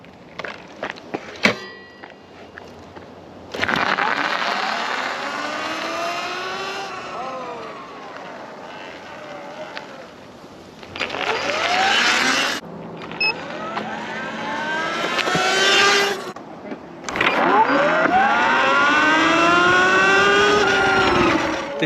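A Sur-Ron electric dirt bike fitted with a 64-tooth sprocket pulls away in repeated sprint runs, each a rising motor whine that climbs in pitch and then cuts off, with quieter gaps between runs.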